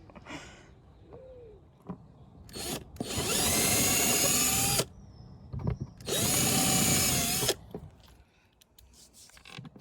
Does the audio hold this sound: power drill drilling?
yes